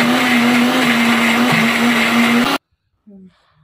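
A mixer grinder whirs loudly and steadily as it blends fried maan kochu leaves into a paste, then stops abruptly, leaving near silence with a brief faint clatter.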